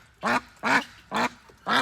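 A duck at a farm animal sanctuary quacks four times in an even, evenly spaced rhythm, loud and close, with no other sound.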